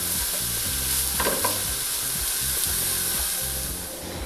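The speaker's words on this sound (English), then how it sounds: "we're going to melt some butter and we're going to add our carrots and onions just to sweat it down a little bit" Carrots and onions sweating in melted butter in a pan, a dense, even sizzling hiss with a faint stir or two, close and steady before easing slightly at the end; nobody talks.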